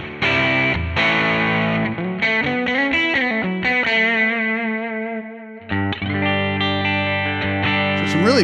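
An electric guitar is played through a neural capture of a Fender Princeton amp, with chords and single notes ringing out with chorus-like effects and mild drive, loud and alone with no talking.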